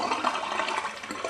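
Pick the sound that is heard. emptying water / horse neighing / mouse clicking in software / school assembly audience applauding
emptying water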